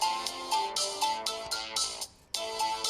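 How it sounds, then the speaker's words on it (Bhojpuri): A phone ringtone for an incoming call plays loud and close as a repeating melodic pattern of short bright bursts, with a brief gap near the end before it resumes. "फोन आइल।"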